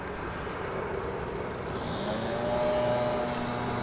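A landed airplane rolls out at DFW Airport, a faint, distant engine roar that builds slightly with a low droning hum, heard alone.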